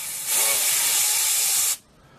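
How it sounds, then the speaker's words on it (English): Compressed air from a compressor blasts in a loud, steady hiss for over a second, spinning rotor vanes on a water temperature light, then cuts off abruptly to near silence. "I'll bring in some air from a compressor, and that'll allow the vanes to spin"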